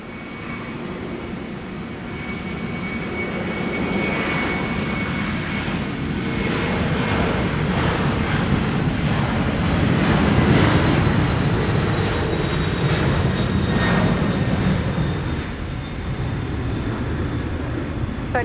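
FedEx aircraft landing at Minneapolis–St. Paul Airport, a loud sustained engine roar that swells and fades over many seconds, with a faint voice underneath.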